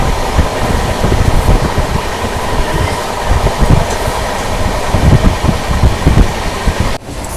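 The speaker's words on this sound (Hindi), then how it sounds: "लगातार रफ्तार में चल रही है अपनी ट्रेन" New Delhi–Patna special train 03294 running at speed, a loud, steady rumble and rattle of carriages with rhythmic wheel clatter, heard from inside the train and continuing throughout before a brief dip near the end.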